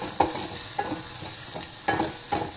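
Ingredients sizzle in a hot pan for a dal dish without onion, with a spoon stirring and scraping in several sharp strokes over a steady frying hiss, close and alone.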